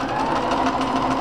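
Close-up of a sewing machine driven by a knee pedal, stitching a facing seam on a blouse with a continuous, even motor whir and rapid needle chatter, heard alone.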